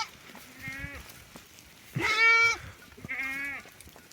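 A young kid goat grazing on a mountain pasture with other goats bleats three times. The calls are close and clear, and the middle cry is the loudest and most strained.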